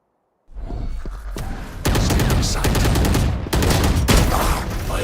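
Gunfire in a tactical shooter video game, loud sustained automatic bursts with sharp cracks that keep going for several seconds with brief gaps between them.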